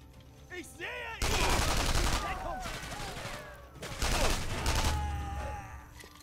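Video game German guns in Sniper Elite 3 firing in two long, loud bursts of rapid gunfire with ringing echoes, separated by a short lull, and a groaning voice heard faintly before the first burst.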